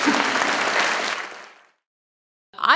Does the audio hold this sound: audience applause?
yes